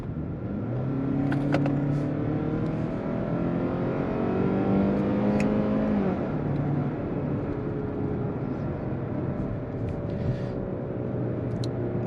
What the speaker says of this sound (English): Do a little acceleration up here as we get over this hill. Switch it over to sport mode.